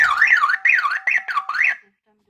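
A 2GIG home alarm system, triggered by a glass break sensor, sounds a loud, close warbling siren that rises and falls in about five quick sweeps, then stops abruptly into silence.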